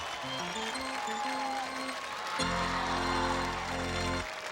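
Studio crowd at an American Gladiators taping, cheering and applauding as a noisy wash under blaring arena music with sustained synth tones, moderately loud throughout.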